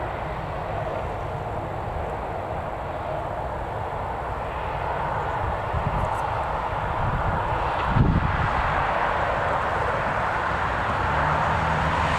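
An Eastern Airways aircraft on final approach at Newcastle Airport, a distant, continuous low engine roar mixed with wind rumble, steady and unbroken with a slight swell near the end.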